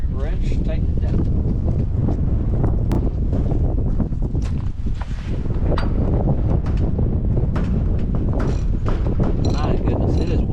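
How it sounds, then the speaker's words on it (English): Strong wind gusting across a microphone outdoors beside a John Deere 787 strip till, loud buffeting rumble that swells and dips continuously for the whole stretch. "it is windy today."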